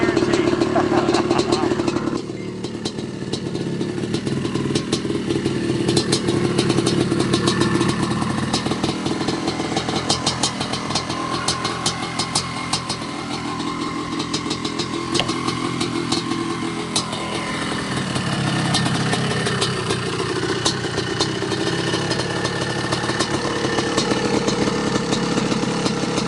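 A 1986 Honda CR500 two-stroke motorcycle heard on-board while riding, its engine rasping and revving continuously for nearly half a minute, loud and close with wind and rattling under it.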